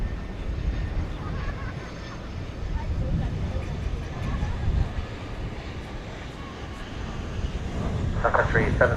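Airplane at DFW Airport at night, a broad, steady jet rumble that slowly swells in loudness, heard from a distance amid wind noise.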